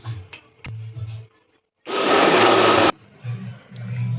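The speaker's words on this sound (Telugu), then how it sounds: "ఈ 2 కలిపి మిక్సీ పట్టుకుందాం." A mixer grinder whirs loudly for about a second as it blends eggs and sugar in a home kitchen for an Oreo cake. Quieter kitchen sounds come before and after the burst.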